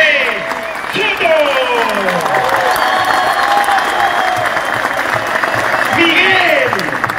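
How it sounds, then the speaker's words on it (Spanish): A loud stadium crowd at Alberto Gallardo applauds steadily in tribute to Sporting Cristal's 1997 squad, while an announcer's voice rings out over the sustained roar of clapping. "Un fuerte aplauso para Jorge Soto"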